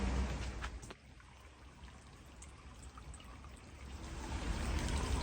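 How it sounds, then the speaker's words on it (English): Soft, steady trickle of water into a Japanese-style stone water basin in a garden, faint and continuous with light outdoor ambience and no voices. "This here is a water basin,"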